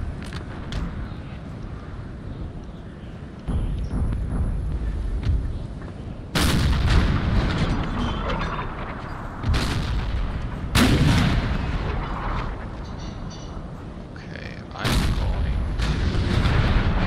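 Repeated heavy cannon blasts in a Napoleon: Total War video game battle, several booming shots at irregular intervals over a continuous battle din, with occasional talking underneath.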